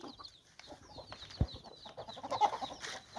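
Chickens being fed cluck softly and intermittently nearby, with scattered rustling and a brief thump.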